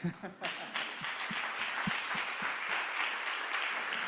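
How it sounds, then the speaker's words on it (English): An audience applauds the final presenter at a symposium on child and adolescent mental health; after a brief voice at the start, dense, even clapping fills the room steadily to the end. "We have to clap for our last presenter"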